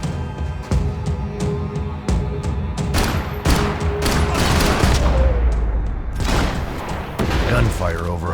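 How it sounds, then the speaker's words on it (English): Rapid bursts of Max Payne 3 gunfire crack out in volleys over a rumbling background, some shots sharp and close, others booming, with brief gaps between flurries. "Gunfire over Hoboken."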